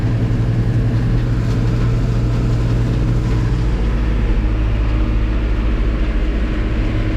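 A tractor drives across a field while chopping corn stalks in spring. Its loud, steady engine drone runs throughout with no break.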